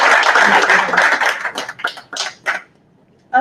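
Audience at a symposium applauding after a keynote talk, a dense burst of many hands clapping that thins into scattered claps and fades to near silence.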